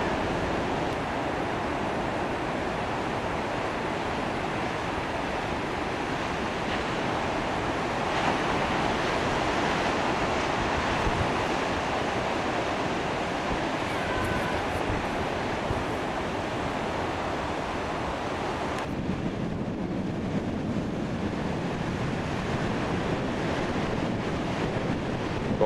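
Rough Pacific surf breaking against a rocky Australian coastline below a lookout on an early winter morning, a continuous loud roar of crashing waves mixed with gusting wind buffeting the microphone, no voices.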